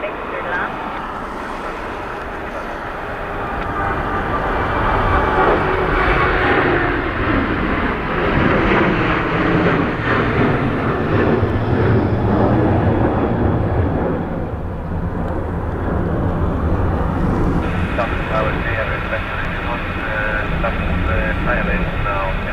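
An airplane landing on runway 16 at Dublin Airport in a crosswind, a loud, broad engine roar that swells and stays strong, mixed with wind noise and occasional voices.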